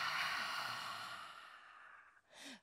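A long, steady breathy exhale from a person during a yoga hip mobility session, close and fairly soft, slowly fading out and ending with a brief fresh breath.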